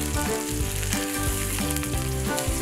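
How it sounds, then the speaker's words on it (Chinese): Crucian carp fries in hot oil in a ginger-rubbed pan, giving a steady, dense sizzle that fills the whole stretch, with faint tonal background music beneath it. "鲫鱼下锅后煎至两面金黄"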